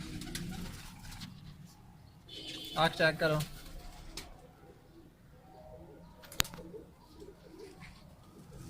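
A racing pigeon coos in a short burst, with a person talking nearby and a brief sharp click later.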